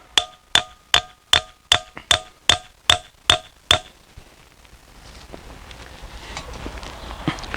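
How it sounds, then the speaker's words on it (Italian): A scythe blade is peened with a hammer on a pointed peening anvil driven into the ground, giving ten loud, evenly spaced metallic strikes that ring briefly, then stop and leave faint background noise. "La falce deve essere battuta da entrambe le parti per far sviluppare alla lama delle tacchette"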